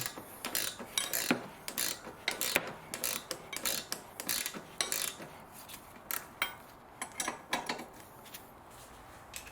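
A ratchet tightens a front upper control arm suspension bolt on a 2011 Audi A4 Avant, giving bursts of rapid metallic clicks in an uneven rhythm, close and fairly loud, with no talking.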